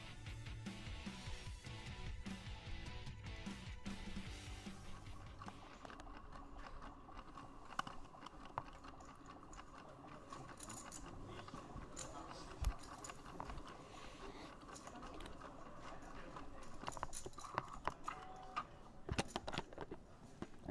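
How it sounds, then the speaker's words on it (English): Automatic card shuffler at a high-stakes poker final table, rapid mechanical ticking and whirring that runs continuously, moderately close, with occasional sharper clicks over the room's background. "If you're wondering what that noise is, that would be the card shuffler"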